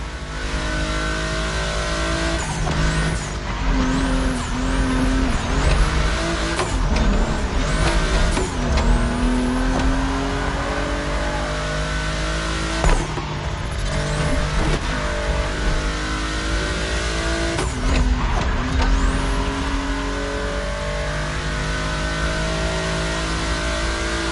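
Volkswagen rally cars race in The Crew Motorfest, engines revving hard and rising through repeated gear shifts, loud and close with several sharp bumps and pops along the way.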